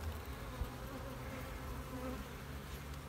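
Honey bees buzz steadily around an open hive while a weak colony is being condensed into a nuc, a dense, continuous droning hum that fills the whole stretch at close range without pause.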